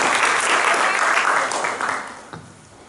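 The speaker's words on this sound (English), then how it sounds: "Another round of applause for these children." A crowd at a Guru Purnima celebration in Auckland, New Zealand claps for a children's performance, a full wash of applause that thins and fades out toward the end.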